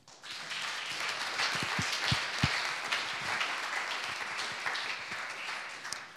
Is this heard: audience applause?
yes